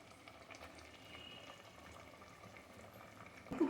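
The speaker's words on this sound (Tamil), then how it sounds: "இது நல்லா கொதிக்கட்டும்" A steady bubbling simmer of paneer pulao cooking in a pot, low and continuous, with a brief louder clatter right at the end.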